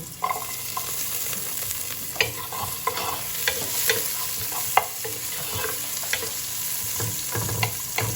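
Garlic fries in a pan while being stirred, a constant sizzle broken by repeated scraping and clacking strokes of the utensil, close and clear with no speech.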